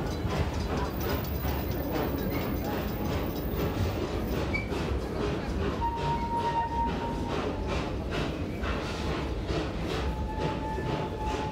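The Serengeti Express train at Busch Gardens rumbles steadily along the tracks, wheels clattering in a rolling rhythm with faint squeals and creaks, continuous and fairly close.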